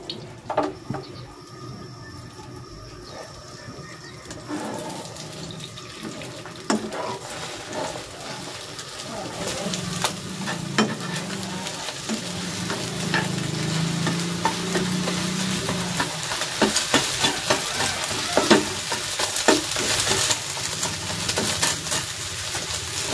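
Beaten eggs for chicken fried rice fry and are stirred in a pan, making a continuous sizzle with scraping and clinking from the utensil that grows busier toward the end.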